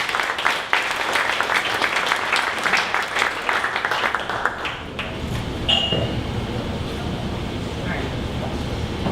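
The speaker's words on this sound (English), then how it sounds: "One more round of applause." Loud, dense clapping from an event audience fills the first half, then fades away into a room murmur with a couple of light pings.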